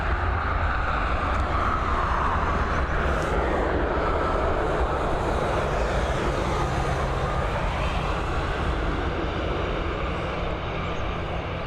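An Air France airliner at Dublin Airport produces a continuous, loud, broad jet-engine roar that holds steady for the whole stretch and slowly shifts in tone.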